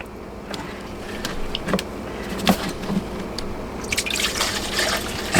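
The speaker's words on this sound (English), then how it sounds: "it pours a lot faster into the measuring cup" Inexpensive spiced rum poured from a bottle with its spout regulator removed into a measuring cup, an irregular trickling and dripping with small splashes and clinks, close up and without talk.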